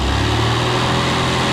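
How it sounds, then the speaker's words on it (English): A classic Mini Cooper engine idling roughly at close range, a steady low mechanical drone with uneven beats as it ticks over near stalling, no voices. "the car seems to kind of tick over as if it's going to stall, then revs back up, settles, and it keeps doing that"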